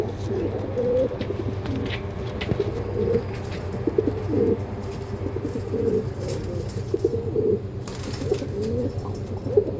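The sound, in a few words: Andhra pigeons cooing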